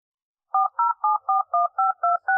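Eight quick telephone keypad tones in an even rhythm, clear and close with no other sound.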